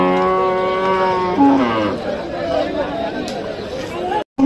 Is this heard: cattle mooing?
yes